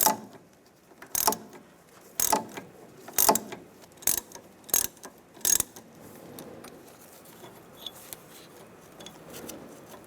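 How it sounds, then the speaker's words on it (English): A ratchet spins off a front sway bar link nut on a 2015-2019 Lincoln MKC, giving six sharp, loud bursts of clicking in quick succession, then fading into quieter, scattered faint clicks and rustling. "So put your ratchet on tightening. Take this nut off."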